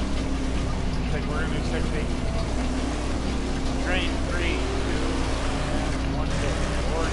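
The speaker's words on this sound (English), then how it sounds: "It's hard to hear you over these engines." World of Outlaws sprint car engines at Lucas Oil Motor Speedway make a steady, loud, dense roar that fills the whole stretch, with faint voices buried beneath it.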